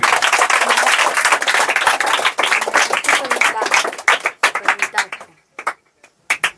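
Loud clapping from a group of children and adults at a coaching-class honouring ceremony, dense at first, then thinning into scattered claps that fade out toward the end.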